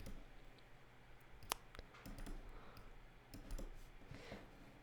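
Computer keyboard arrow keys tapped quietly in scattered clicks, a few sharper single presses among softer ones, close and faint with no talking.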